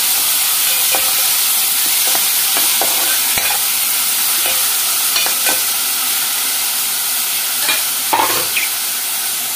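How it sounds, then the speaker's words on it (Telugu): A spoon stirs and scrapes mint curry in a hot pan, a run of irregular scraping strokes over a constant loud sizzle, close up with no voices. "చక్కగా కలిపేసేసుకుందాము"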